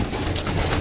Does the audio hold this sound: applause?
no